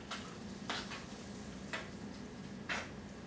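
A spoon stirs a chocolate no-bake cookie mixture after vanilla is added, making soft, quiet scraping and sloshing, with a few brief louder scrapes against the pot over faint background hiss.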